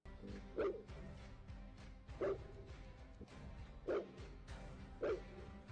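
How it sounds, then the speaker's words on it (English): Farm dogs bark to warn off coyotes: four loud, sharp barks spaced about a second and a half apart, fairly close, with no talking. "Their loud barking serves as a warning, which successfully stops the coyotes from howling and approaching closer."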